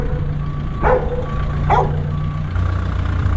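Two sharp barks from dogs aimed at a passing white van, set against a low vehicle rumble and a thin steady whine that continue after the barking stops.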